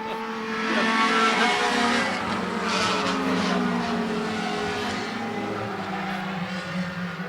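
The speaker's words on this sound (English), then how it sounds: "A little squirrely going into 1, the 7 car, not handling so well up in the 2nd groove as Zach Audet is going to reel him in" Race cars roar around a concrete oval track at a short-track event, engines loud and continuous with tires hissing and skidding as cars jostle through the turns in a close pack, steady under an announcer's commentary.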